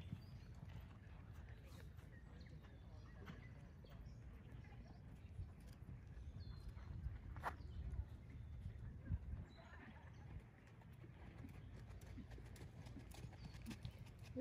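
Horse hooves clip-clop over a steady murmur of background noise at a horse show, faint and fairly distant, with a Norwegian Fjord horse among those in the ring.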